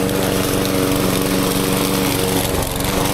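A wet lawn mower's small engine runs loud and steady at close range, a continuous buzzing drone with no pauses and no talking.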